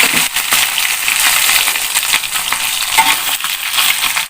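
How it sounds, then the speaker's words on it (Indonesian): Meat frying in a hot pan with a ground paste of red bird's-eye chili and garlic, a loud continuous sizzle broken by scraping stirs and small clinks as the pieces are turned. "Kita goreng terus"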